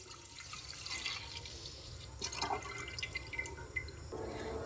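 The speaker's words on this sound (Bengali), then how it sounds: "1 লিটার দুধ দিয়ে দিলাম।" A litre of milk pours into a cooking pot, a soft, close liquid trickle and splash that swells and fades in a quiet kitchen.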